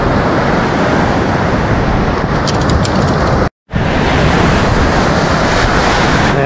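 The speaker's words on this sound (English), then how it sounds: "You can see out there, they're breaking out there, the waves" Ocean waves breaking offshore along a beach on a windy morning, a steady loud broadband roar of surf mixed with wind buffeting the microphone, with one brief dropout midway and no talking.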